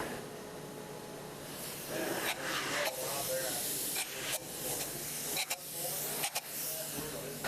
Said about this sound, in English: we spray the foam from the outside in after the roof sheeting has been removed